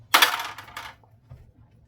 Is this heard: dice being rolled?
yes